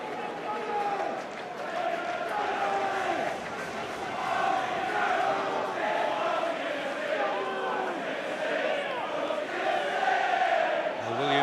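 A football crowd at a League One match between Yeovil and Leeds roars and cheers in the stadium, a sustained swelling noise with a commentator talking over it.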